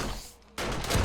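Automated turrets open fire on zombies attacking a base in the game 7 Days to Die, a short burst of dense, loud gunfire erupting after a brief quiet lull.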